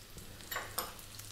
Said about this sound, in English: we're going to be just frying these onions around. Keep it moving.